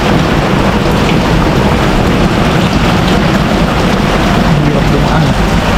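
Heavy typhoon rain pours in a steady, dense roar, loud and close, with a constant wash of drops hitting surfaces and no pauses.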